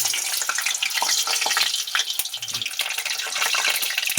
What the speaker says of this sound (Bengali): তেল গরম হয়ে গেছে, আলুটা আমি ভেজে নেব।